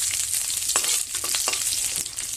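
Fish fries lightly in a pan with garlic, a steady close hiss of oil punctuated by a few soft scraping strokes, no voices present.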